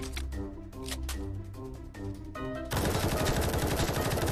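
An M14 sniper rifle fires in Roblox War Tycoon, spaced sharp mechanical shots ringing out over a tonal game backdrop, followed by a sudden loud, dense wash of gunfire and noise.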